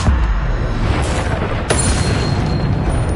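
A Bombarda spell in Hogwarts Legacy detonates with a heavy boom, and a rumbling blast fills the scene with a second sharp crack partway through.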